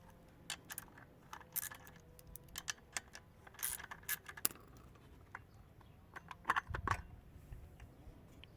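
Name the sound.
removing chain tensioner from Parkside petrol chainsaw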